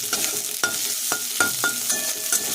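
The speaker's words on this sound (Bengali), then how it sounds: "পেঁয়াজ দিয়ে দিলাম।" Chopped onion sizzling with panch phoron spices in hot oil in a pan, a steady frying hiss broken by several sharp stirring scrapes and clinks of the spatula against the pan.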